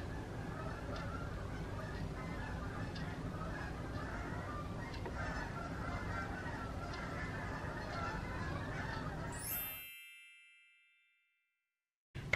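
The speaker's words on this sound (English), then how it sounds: "Are those geese?" Geese honking outdoors, repeated distant calls over a steady background wash, ending in a sharp ringing clang before the sound cuts to silence.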